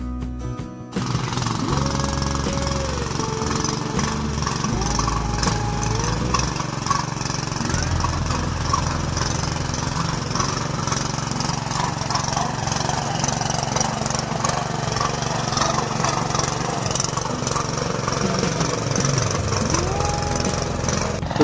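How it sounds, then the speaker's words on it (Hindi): A tractor ploughs a small terraced hill field, its engine droning loud and continuous near at hand with rattling mechanical chatter throughout. "तो इसमें फटाफट से ट्रैक्टर लगाते हैं"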